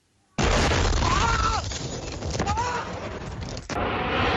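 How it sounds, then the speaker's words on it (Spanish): A bombardment in Lebanon hits with a sudden loud explosive boom after near silence, followed by a sustained roaring, crackling rumble with a sharp break and a second surge near the end. "el periodista libanés Fadi Boudia resultó herido durante un bombardeo mientras era entrevistado en un programa político"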